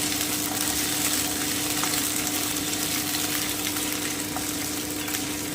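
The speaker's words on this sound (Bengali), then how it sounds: "আলুটা একটু ভেজে নিচ্ছি দু থেকে তিন মিনিট" Potatoes fry in a pan of hot oil with a steady, close sizzle that holds evenly from start to finish, with no voices.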